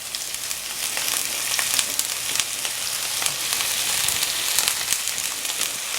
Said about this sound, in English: now I'm going to add some more vegetable oil to fry my onion in